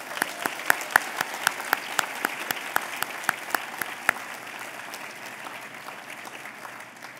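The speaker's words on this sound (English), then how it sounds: "please give yourselves a collective round of applause" Graduation audience at a Harvard master's ceremony applauding, a steady wash of clapping with sharp individual claps standing out early, then gradually thinning and fading over about seven seconds, no voices.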